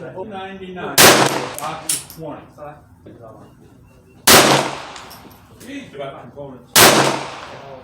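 A .22LR Ruger Mark III semi-automatic pistol with a scope fires SK High Velocity rounds at an outdoor range, three sharp, loud, close shots spaced a few seconds apart, with someone talking between them.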